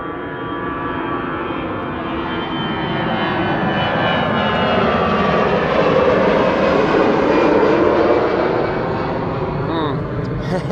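Aer Lingus jet airliner at Amsterdam Schiphol Airport, its engines giving a loud, steady roar that swells slightly and holds throughout, close and continuous with a faint voice underneath.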